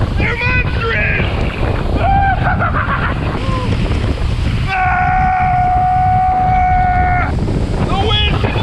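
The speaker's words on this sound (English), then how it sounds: "The wind's blowing us. We're going. It hits pretty hard." Hard wind buffets the microphone on a boat near Palau, a loud continuous roar with water noise, while people talk and call out over it.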